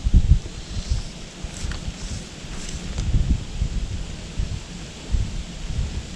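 Wind gusts by a river in Lot-et-Garonne, blowing from behind and buffeting the microphone with loud, uneven low rumbles that swell and ease throughout, with a faint rustle in the background.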